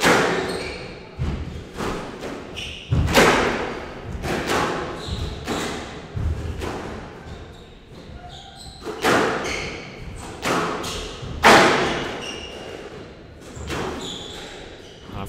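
Squash ball thudding off racket and walls in a steady rally during a Premier League division one squash match, sharp repeated thumps with sneaker squeaks and court echo, loud and close, with a commentator talking faintly.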